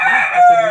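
An Aseel rooster crows loudly and close by, one drawn-out strained call lasting under a second.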